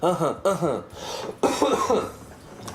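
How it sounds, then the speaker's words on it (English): A person clears their throat close up with a few short, rough voiced bursts. "Let me clear my throat."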